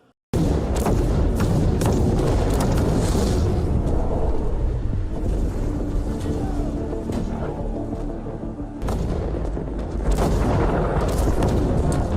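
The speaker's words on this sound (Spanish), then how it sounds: "Quiero los cañones disparando día y noche hasta que los romanos salgan, suplicando clemencia" Cannons firing in an artillery bombardment during the 1453 siege of Constantinople: dense, continuous booms and heavy thuds with rumbling layered over one another, loud and sustained for about twelve seconds with no clear speech.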